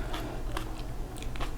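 Someone chews a sticky, honey-like paste of food close to the mouth, with soft wet crunching bites coming in a few bursts over a low steady background.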